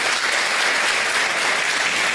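A university conference audience claps loudly and steadily, a dense even burst of applause lasting about two seconds with no voices over it.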